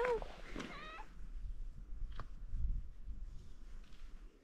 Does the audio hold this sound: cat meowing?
yes